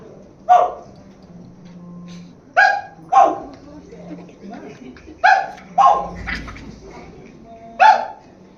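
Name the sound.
actor imitating a dog barking in a stage play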